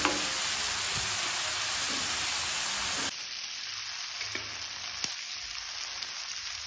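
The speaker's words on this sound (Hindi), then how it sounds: "टाइम टू टाइम पे इसको थोड़ा थोड़ा सौते करेंगे सो दैट ये हमारे नीचे ना लगे।" Onions and peas sautéing in a pan for mushroom matar, with a steady loud sizzle that drops to a quieter hiss partway through, with a couple of faint clicks from the utensil and no speech.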